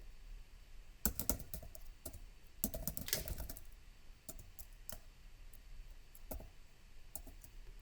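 Typing on a computer keyboard while entering a function name in MATLAB, close key clicks in irregular bursts with a dense flurry near the middle and scattered single taps, quiet overall with no talk.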